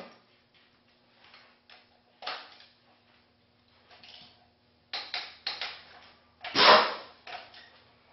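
Wrench tightening a cylinder head bolt on a six-cylinder diesel engine toward about 140 foot pounds, heard as quiet sparse ratcheting clicks and ticks with one louder clunk near the end, close by with no voices.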